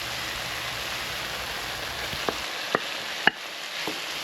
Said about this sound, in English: I'm gonna let this saute for a minute or two